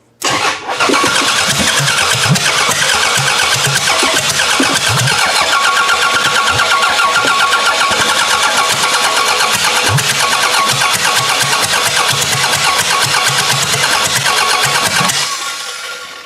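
A car with a freshly installed motor is started in a garage, and the engine catches abruptly, then holds a loud, steady, close roar for about fifteen seconds before cutting off.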